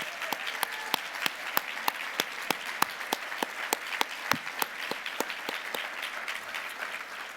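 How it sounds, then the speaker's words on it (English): Audience at a church conference plenary session claps in thanks, a steady patter of many hands with a few sharp individual claps standing out, moderately loud and without talk. "let's give a round of applause to Village to say thank you to them"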